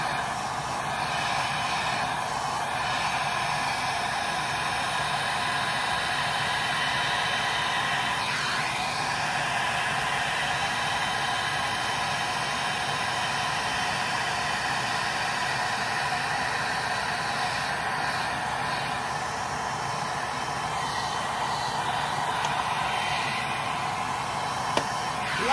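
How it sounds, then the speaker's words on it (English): A heat gun blows steadily on a resin seashell sculpture, a constant loud airy roar with a few faint pops and ticks, running unbroken for the whole stretch. "turn your whatever you're watching me on down because I'm using the heat gun"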